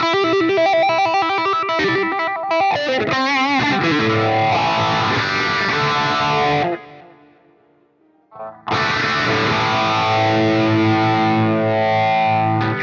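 Heavily distorted electric guitar through a high-gain amp model on an AX8 processor, thick tone, playing loud riffs and sustained chords, pausing briefly before a ringing chord returns.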